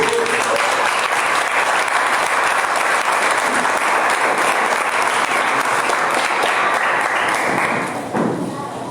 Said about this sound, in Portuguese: Você pode adorar o Senhor com uma salva de palmas?